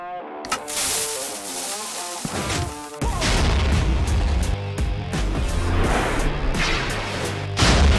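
A huge TNT blast fired from a giant dispenser in Minecraft: music-like tones give way around three seconds to a loud, sustained roar of explosions with repeated booming bursts continuing to the end.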